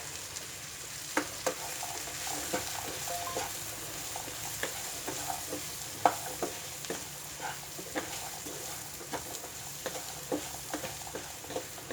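Potato and beans dry curry fries in a pan with a soft continuous sizzle, punctuated by repeated close scrapes and taps of a spoon mixing the vegetables.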